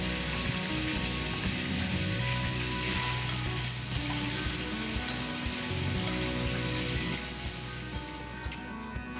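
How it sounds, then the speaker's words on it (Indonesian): Tofu frying in a pan for a spicy chicken liver and gizzard dinner, a steady broadband sizzle like light rain holding loud and even throughout, no voices. "Lanjut goreng tahu."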